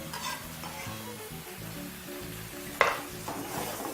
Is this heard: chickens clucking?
no